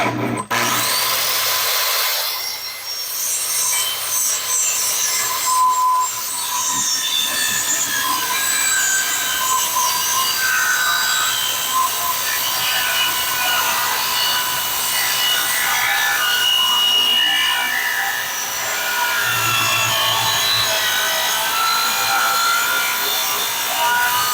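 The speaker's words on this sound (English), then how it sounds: "So I have to move the saw over roughly 1/8 of an inch from that mark, so I get the saw cut in the right spot." A power saw cutting through a wooden deck stair stringer, with a dulling blade that struggles through the wood: a steady, loud buzzing cut running throughout with brief dips in intensity.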